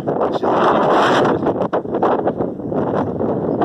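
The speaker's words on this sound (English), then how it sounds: "Sorry about the wind, it's very windy." Heavy wind buffeting the microphone, a loud continuous roar with gusty surges and brief dips throughout.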